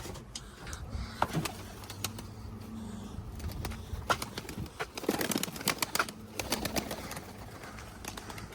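Pigeons are shooed out of a coop. Wings flap in scattered bursts, and soft coos and rustling come from birds close by. A low hum sits underneath throughout.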